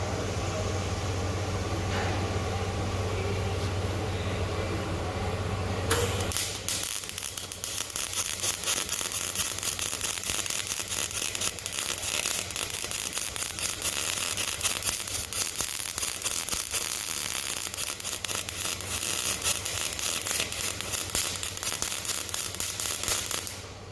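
Welding with the heat turned down too low gives a dense, steady crackle of rapid popping that starts abruptly a few seconds in and carries on without a break, following a quieter hum.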